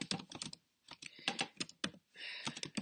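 Close, crisp typing on a computer keyboard in quick rhythmic runs of keystrokes with brief pauses, alone without talk.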